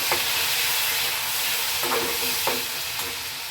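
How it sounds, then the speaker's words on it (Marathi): Tomatoes and coriander sautéing in oil, a dense, bright sizzle hissing steadily close up, with a few soft spoon strokes stirring through it. "नरम होईपर्यंत परतवते आता टमाटा एकदम छान असा नरम झाला तेलामध्ये"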